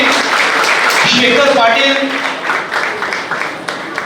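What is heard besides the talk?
audience applauding loudly for the young generation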